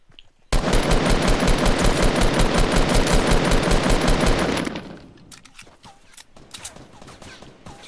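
Rapid, loud automatic assault rifle fire in Fortnite Battle Royale, a steady burst of shots lasting about four seconds before cutting off, followed by quieter scattered clicks and movement sounds.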